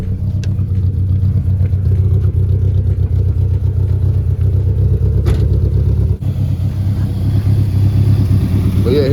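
A Nissan 240SX S14 idles roughly while warming up, its engine a steady, loud, close rumble with uneven pulsing and a slight lumpy stumble; a short click interrupts briefly partway through.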